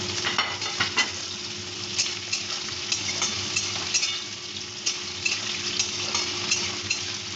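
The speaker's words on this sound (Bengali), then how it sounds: "পেঁয়াজটা একটু ভাজা ভাজা করবো" A large batch of chopped onions frying in a pan for a gandhoraj kakrol bharta, with a steady close sizzle and a regular pattern of scraping stirs and light spatula taps throughout, and no talking.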